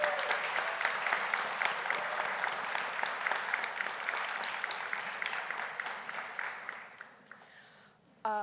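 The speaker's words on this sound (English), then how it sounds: "Give them a round of applause, please, the Spanish students." An audience at a high school biliteracy award ceremony applauds for students. The dense clapping holds steady, then thins and fades out toward the end, and a sharp knock or mic bump closes it.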